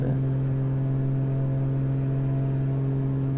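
A steady, droning aircraft engine hum from Microsoft Flight Simulator 2020 sits at one even pitch, continuous and unchanging, with no voices.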